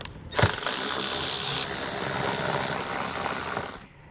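A hand ratchet spins steadily as it backs out fascia bolts on a 2019 vehicle, a dense continuous clicking close to the microphone for about three seconds, with no talk.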